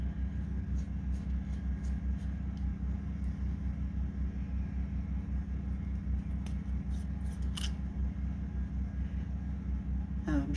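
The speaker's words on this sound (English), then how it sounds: "the sounds of my neighbor's generators in the background" Neighbor's generators run steadily in the background, a continuous low droning hum with faint ticks and small clicks on top. No voices are heard.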